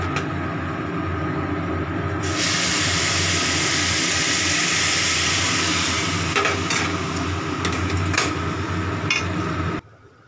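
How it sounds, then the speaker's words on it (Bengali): Hot water poured into a pot of spiced khichdi bursts into a loud, roaring sizzle that holds for several seconds and then cuts off abruptly. "এবারে জল দেব,"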